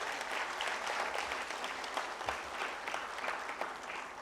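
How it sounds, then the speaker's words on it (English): Steady, dense audience applause for young award winners at a valedictory session on sustainable development and multistakeholder dialogue, filling the room evenly from start to finish with no talking. "Can you please have another huge round of applause for all our young winners?"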